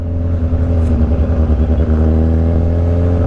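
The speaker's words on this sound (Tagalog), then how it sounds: "Ano kasing tawag dyan pagka hinahataw na yung bike?" A Kawasaki Z1000 motorcycle revs hard on a city street, its loud engine note holding steady and close throughout, with strong low harmonics and slight fluctuations in pitch.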